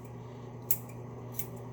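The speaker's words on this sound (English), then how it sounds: "Now the idea is to use a not too sharp pair of scissors" A not-too-sharp pair of scissors snips twice at hair, with two brief, crisp cuts against a steady low hum and no talking.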